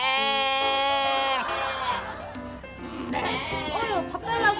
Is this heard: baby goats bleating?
yes